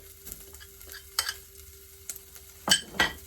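Garlic goes into a pan of browned onions and sizzles quietly, with a few bright metallic clinks and scrapes of a spoon stirring against the pan.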